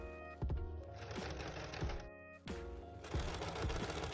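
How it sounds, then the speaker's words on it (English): A sewing machine stitches a straight line on fabric in rapid rattling bursts, pausing briefly midway before resuming, fairly quiet and close. "Right at the top we need to sew a straight line"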